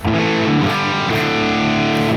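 Distorted electric guitar playing a rock riff through a tube amp with a master volume, no effects beyond a touch of reverb; dense, loud, sustained crunchy chords fill the short stretch without talk.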